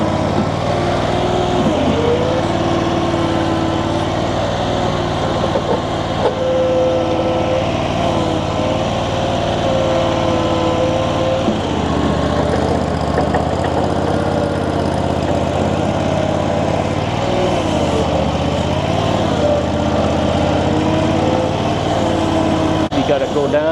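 The engine of an Infront YF380 mini skid steer runs continuously close by, a steady droning hum that rises and dips slightly in pitch as the machine works, with people talking over it.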